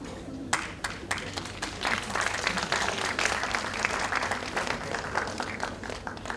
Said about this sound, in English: let's give a big round of applause for our outgoing students